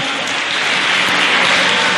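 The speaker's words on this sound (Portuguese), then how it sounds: "dê um aplauso ao Rei dos Reis" A church congregation applauds, a dense, loud, sustained clatter of many hands clapping together with no pauses.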